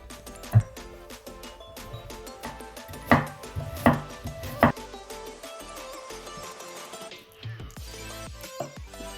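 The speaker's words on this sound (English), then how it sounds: "Peel the skin off your carrots and cut them into small slices." A knife chops peeled carrots into small slices, giving a few sharp, separate strikes on a board that sit over a steady background of music and kitchen noise.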